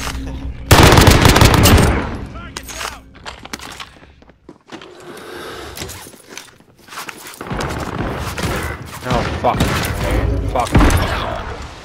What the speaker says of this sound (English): Is that the revolving shotgun that just killed you?